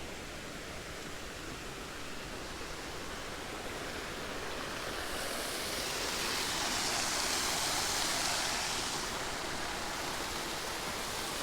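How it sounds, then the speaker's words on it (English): Water runs steadily over a working paddle wheel at Hidden Cove in Arley, Alabama, a constant broadband rush that swells slightly midway and carries on without a break. "So this water is running over here for the paddle wheel."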